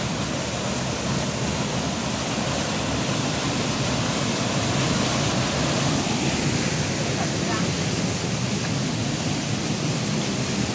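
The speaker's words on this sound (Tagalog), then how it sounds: "Lakas kasi ng agos, ragasa." A strong river current rushes through a forest after a sudden rise in the water, giving a loud, steady broadband roar that fills the whole stretch without pause, close at hand.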